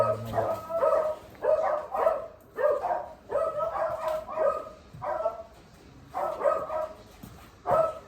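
Dogs bark repeatedly from nearby in irregular bursts of loud barks and yips, some fading slightly, with no talking during the barking.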